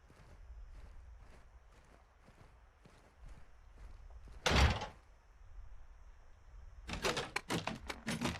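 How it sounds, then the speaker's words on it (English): Door opening in the video game Call of Duty Modern Warfare 2, with a sharp loud knock or clunk midway among quieter rhythmic steps and clicks, followed by a burst of rattling taps. "Oh, no, this door just opens."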